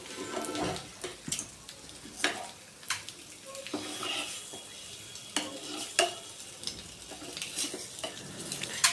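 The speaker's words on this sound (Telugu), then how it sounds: "ఇంకా ఎగ్స్ మొత్తం వేసేసి ఎగ్స్ని అయితే ఫ్రై చేసేసుకుంటున్నాను నేను." Eggs frying in a pan while being stirred for a masala egg curry: steady sizzle with repeated sharp scrapes and clinks of a utensil against the pan, close and moderately loud, no talking.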